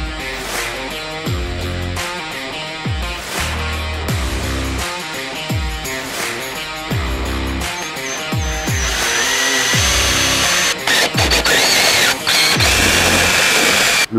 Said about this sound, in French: Le petit marquage noir qu'on avait fait au préalable sur la fraise pour être sûr de percer au bon diamètre